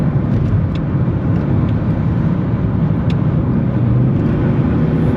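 Tuned BMW E60 530d M Sport diesel pulling hard under acceleration, a loud, steady low engine roar heard from inside the cabin that holds a constant level throughout.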